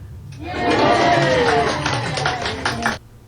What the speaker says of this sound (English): This is what they're clapping about.